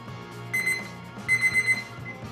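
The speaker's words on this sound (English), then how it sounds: "All right, our timer is going off." A kitchen timer alarm beeps in two quick bursts of repeated high electronic tones, set off during grilling of chicken with potatoes and zucchini on a Weber grill.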